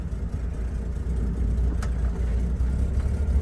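A 1959 Chevrolet Suburban Carryall with the 235 Thrift Master engine idles in a low, steady rumble, the throttle lifting it slightly into a firmer rev partway through, heard close up inside the cab.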